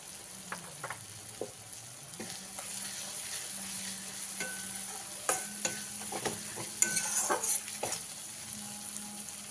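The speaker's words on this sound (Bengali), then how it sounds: "মশলাটাকে ভালো করে কষিয়ে নিই" Spice paste (masala) for raw banana kofta curry sautés in a pan with a soft, steady sizzle, broken by scraping and clinking strokes of a stirring spoon against the pan.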